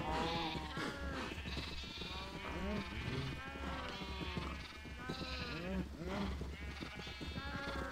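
Farm animals in a video game give repeated bleating, mooing calls that overlap one another in a busy, steady stream, close and loud, with a player's voice talking over them.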